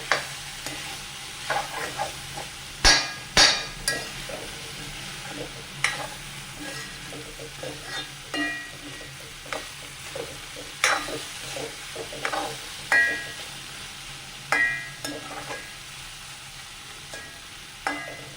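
A carrot and spinach stir-fry sizzles steadily in a pan while a spatula stirs it in repeated scraping, tapping strokes, with a few sharper clicks at close range.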